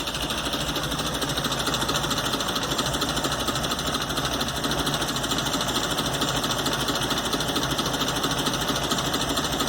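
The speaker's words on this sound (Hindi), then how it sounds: "ये गाड़ी का इंजन बहुत ज़्यादा वाइब्रेट कर रहा है" A car engine with a carburetor under adjustment idles roughly with heavy vibration, giving a loud, steady, buzzing knock that runs unbroken and alone.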